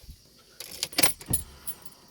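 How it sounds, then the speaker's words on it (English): Key jangling and turning in the ignition of a BMW car, a few short metallic clinks and clicks close up with quiet pauses between, no talk. "now I will give the car ignition on"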